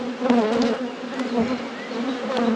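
Agitated honey bees buzz loudly and continuously around an opened deep hive during an inspection after winter, a dense, close swarm drone with individual bees zipping past.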